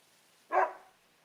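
A puppy in the Another Code Recollection video game gives a single short bark, clear and fairly close, then fades quickly into a quiet background.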